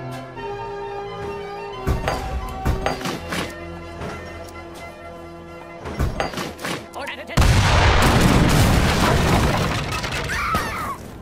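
Artillery cannons firing in the real-time strategy game Age of Empires 3: sharp booms and thuds over a steady music bed, then a dense roaring blast of gunfire and explosions near the end, loud and close.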